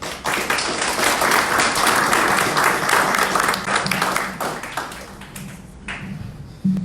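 Audience applause welcomes the first presenter at a book presentation in Xalapa, steady dense clapping that fills the room for several seconds before thinning out near the end.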